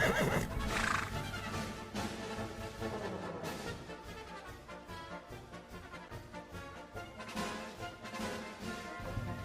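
A small circus horse gives a loud, shrill whinny up close and then a run of shuddering neighs, with hoof clatter and stamping scattered underneath across the stretch.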